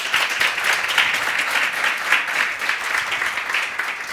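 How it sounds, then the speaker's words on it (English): Audience at an election misinformation dialogue event claps for the panelists, a brief, steady burst of applause filling the room without talk. "a round of applause for them."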